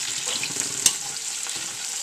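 Chopsteak cooking on high heat sizzles steadily in the pan while being stirred, a close hiss with light scraping and one sharp clack partway through, no voices.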